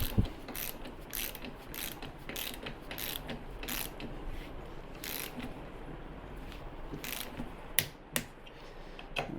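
Torque wrench tightening a handlebar bolt on a Royal Alloy scooter: a steady run of fine ratcheting clicks at close range, with a few sharper louder clicks near the end.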